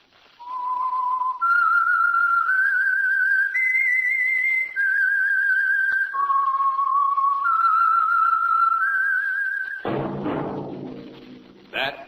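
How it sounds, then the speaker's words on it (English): A whistled signal tune for the 1946 Signal Oil radio program, a clear, steady melody stepping through several sustained pitches for about ten seconds, followed by a brief burst of orchestral music. "That whistle is your signal for the Signal Oil Program, The Whistler."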